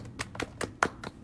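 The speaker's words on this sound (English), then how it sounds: "Can you clap? Let's see if you can clap." A young child claps her hands at home, about six soft, slightly uneven claps spaced roughly a fifth of a second apart, close by and fairly quiet with no talking.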